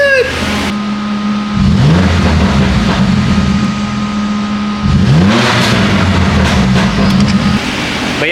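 Car engine fitted with an Active Autowerke full exhaust revs hard twice, each rise climbing then dropping back to a steady burbling idle, loud and close, with people briefly exclaiming in between.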